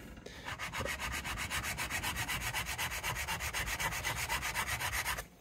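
Steady back-and-forth rasping of a 1970 Les Paul Deluxe headstock being sanded by hand, about five strokes a second in an even rhythm, close and continuous, stopping abruptly at the end.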